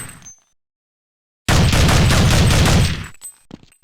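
M4A1 rifle fire in Counter-Strike 1.6, a loud sustained burst of rapid automatic shots lasting about a second and a half after a short silence, then trailing off into faint clicks.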